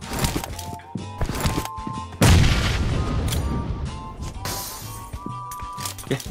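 A grenade blows up in PUBG Mobile with a sudden loud close blast, followed by a long rumbling, crackling decay; gunfire pops and players' voices chatter around it before and after.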